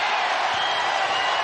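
A basketball arena crowd at a college game between Akron and Toledo, roaring loudly and steadily in a dense, unbroken wall of cheering with no pauses.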